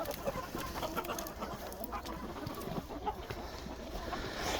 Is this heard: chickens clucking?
yes